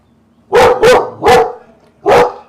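A dog barks four times up close, loud sharp barks in a quick run of three and then one more after a short pause.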